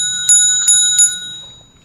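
Three clear metallic strikes of a temple bell, about half a second apart, each ringing with bright sustained overtones that fade slowly into quiet after the last stroke.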